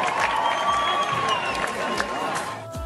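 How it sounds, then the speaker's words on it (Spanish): A concert crowd applauds and cheers for a singer, a busy mix of clapping, shouts and whoops at moderate distance that thins out toward the end. "¡Un aplauso para Brian!"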